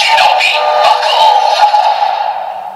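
A short electronic sound effect from a Kamen Rider Geats DX Shinobi Raise Buckle toy plays up close after a button press, a bright synthesized burst of tones that fades out after a few seconds.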